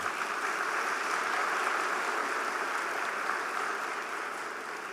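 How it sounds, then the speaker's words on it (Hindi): Audience clapping in a large hall, dense sustained applause from many hands that holds steady and then slowly fades. "ताली तो बजी है लेकिन ऐसे जोरदार नहीं बजी"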